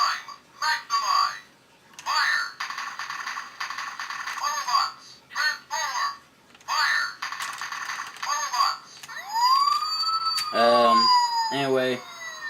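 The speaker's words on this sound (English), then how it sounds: "His sirens do work." An electronic siren from a 2001 Transformers Optimus Prime toy wails with rising, sweeping tones after stretches of talking, repeating in short bursts near the end.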